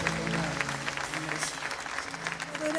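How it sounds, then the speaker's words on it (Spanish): A church congregation at an online prayer meeting claps together in steady, dense applause that carries through the whole stretch, with voices mixed in underneath. "Dale un fuerte aplauso."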